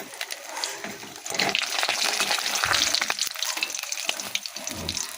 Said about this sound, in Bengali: মাছ ভাজা এত ফাটছে, মানে সামনেই যাওয়া যাচ্ছে না